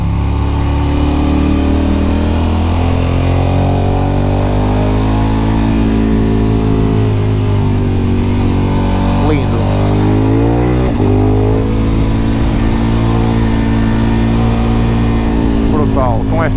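Motorcycle engine drones loud and close while riding with a top case and a passenger on a road near Lamego, pitch rising and falling through gear changes, with wind rush and someone talking over it.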